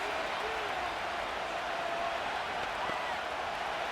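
Steady roar of a stadium crowd at an NFL football game between the Bills and Jaguars in a video game, a constant broadband wash of cheering and noise with no distinct peaks.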